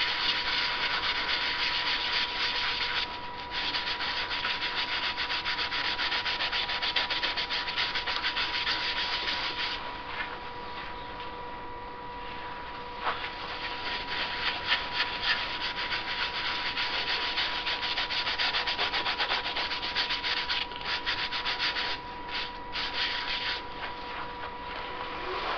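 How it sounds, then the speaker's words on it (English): Yorkshire Grit original being rubbed into turned ash spinning on a lathe, a loud, continuous abrasive scratching hiss with a steady motor hum underneath, going on without a break. "I'm going to use some Yorkshire grit original. Get this nicely rubbed in."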